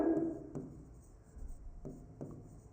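Teacher writing notes on a classroom board during a biology lesson, faint scratchy strokes in short bursts with a few taps, close and quiet with no talking.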